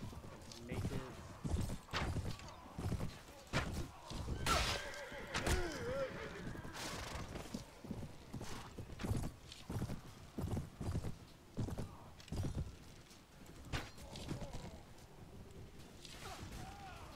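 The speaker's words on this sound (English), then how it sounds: "he's really fast on his horse" A fast horse in the Mount & Blade Warband game drums out rapid clip-clop hoofbeats mixed with loud neighs and whinnies, with thuds and clashes around them and someone talking over the action.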